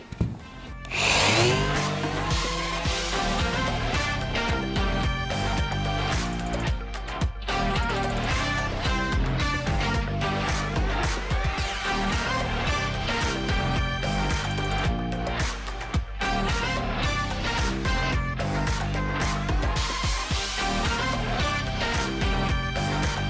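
A sanding machine with 80-grit paper works wooden edges cut by a circular saw, a dense continuous whirring grind that holds steady and loud for the whole stretch with brief dips.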